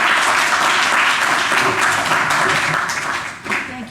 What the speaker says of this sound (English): So another round of applause for Harriet.